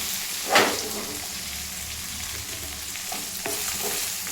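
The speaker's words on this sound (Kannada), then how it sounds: "ಸ್ವಲ್ಪ ಫ್ರೈ ಮಾಡೋಣ." Chopped garlic and ginger fry in a pan, with a sharp scrape of the spoon at the start followed by a soft, continuous sizzle and occasional stirring clicks, close up and without any talking.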